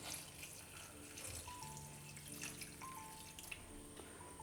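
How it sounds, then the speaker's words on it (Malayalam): Water pours and splashes steadily into a pot of dried-fish curry being cooked alongside tapioca, a soft, close liquid gurgle running throughout without voices. "എന്നിട്ട് നമുക്ക് കുറച്ച് വെള്ളം കൂടി ഒഴിച്ചു കൊടുക്കാം."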